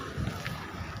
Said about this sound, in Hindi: ये हवा चल रही है